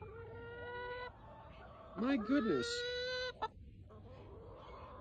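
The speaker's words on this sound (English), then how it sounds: "Chicken." Chickens cluck and squawk in a rapid, close burst amid a hungry flock, with a steady tonal hum underneath and a person briefly speaking.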